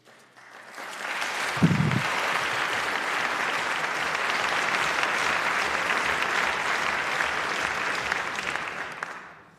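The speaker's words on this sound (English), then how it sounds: "It's helpful when you clap." Sustained applause fills a legislative chamber during a governor's final State of the State address, with a crowd clapping steadily and loudly for several seconds before it fades out.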